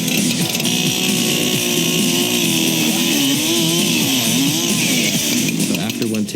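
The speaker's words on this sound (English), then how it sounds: "after the chainsaw passes through it" A chainsaw engine drones loudly and steadily on a horror film special-effects set, its pitch wavering as it revs, with voices talking underneath throughout.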